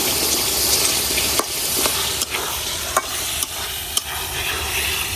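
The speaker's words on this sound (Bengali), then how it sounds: "এখন আমি একটু মাছের মাথাটা একটু ভেঙে ভেঙে দিতেছি।" Hilsa fish head and half-cooked potatoes sizzle steadily in a pan, broken apart and stirred, with a few sharp scraping knocks of the utensil against the pan over a continuous hiss.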